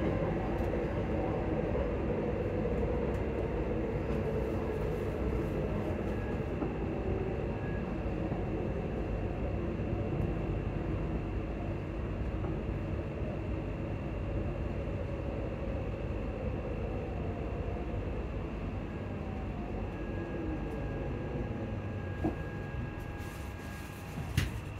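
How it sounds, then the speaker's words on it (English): Inside a moving passenger train near Livingston North in Scotland, running toward Edinburgh Waverley: a steady loud rumble of wheels and carriage noise throughout, with faint squeaks and rattles and no speech. "This train is for Edinburgh Waverley. Next stop is Uphall."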